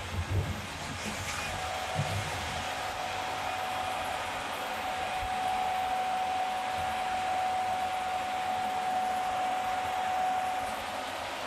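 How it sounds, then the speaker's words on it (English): A cutoff saw in a lumber yard hums steadily with a sustained whining tone over broad machinery noise, running at idle for the whole stretch. "Another cutoff saw."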